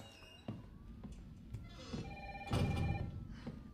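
An in-game telephone rings in Resident Evil 3, sounding as faint repeated electronic trills with short bursts at a steady rhythm, set against quiet background noise and soft game sounds.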